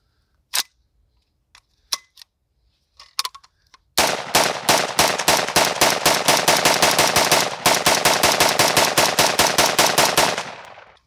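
A Daniel Defense DDM4V7 rifle, recovering after a jam during a torture test, fires a few scattered single shots, then a long, steady, rapid string of loud, close shots lasting about seven seconds.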